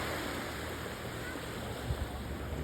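Small, calm waves in a sheltered cove at a beach in Playa del Carmen, a soft continuous wash of water with a slight swell near the end, mixed with light wind noise and no talk.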